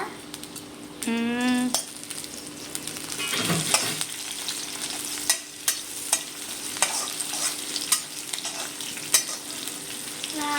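Green chillies and tomatoes fry in oil in a kadai, a steady sizzle running throughout with spoon scrapes and clinks against the pan; a brief harmonic tone rises near the start, and no one speaks.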